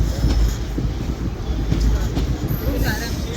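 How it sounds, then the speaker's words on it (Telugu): The Tungabhadra Express stands at platform 1 of Wanaparthy Road station. A low rumble and rolling rail noise sound under a busy crowd's chatter and voices. "WPR 1వ నెంబర్ ప్లాట్ఫామ్ మీద వచ్చిందండి మన ట్రైన్"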